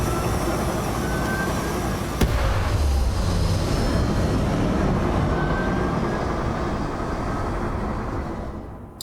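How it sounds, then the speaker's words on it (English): Spaceship taking off in the video game Starfield, a loud, sustained engine roar and rumble that holds steady for several seconds before fading out at the end. "Let's do a full takeoff. With the cinematic effect."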